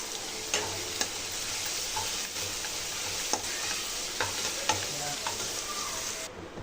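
Rice with a half spoon of turmeric is stirred in an oiled pan, a spoon scraping in irregular strokes over a steady close sizzle of frying.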